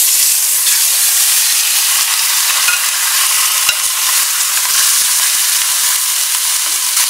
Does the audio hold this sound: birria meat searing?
yes